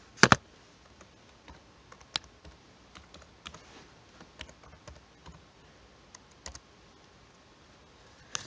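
Password being typed on a computer keyboard: scattered, irregular key clicks, quiet and close, with a few sharper taps near the start and end and near-silence between.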